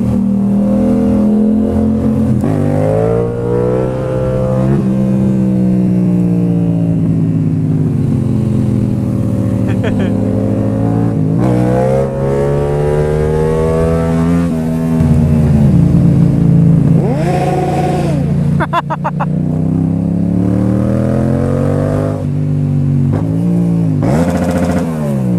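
A motorcycle engine revs hard up through the gears. Its loud, close whine climbs in pitch, drops briefly at each shift, then climbs again over a long continuous run.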